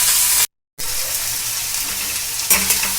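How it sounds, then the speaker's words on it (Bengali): Onions frying in plenty of mustard oil for a special spiced egg curry, a steady close sizzle and crackle that cuts out briefly, then returns with a louder burst of spitting near the end. "পেঁয়াজটাকে আমাকে ভালো করে লাল করে ভাজতে হবে।"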